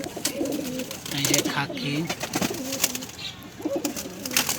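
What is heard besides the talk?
pigeons cooing in a loft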